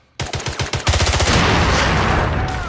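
Rapid gunfire in the video game 007: Blood Stone, a burst of loud sharp shots that blurs into a sustained roaring barrage.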